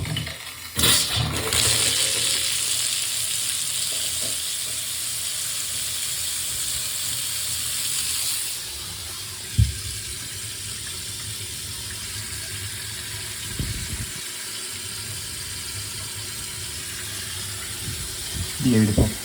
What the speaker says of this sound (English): Water's back on now